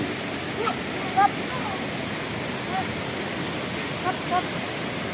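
Waterfall at the Telunjuk Raung campground in Banyuwangi, a steady broadband roar of falling water filling the whole stretch, with a few faint distant voices and bird chirps.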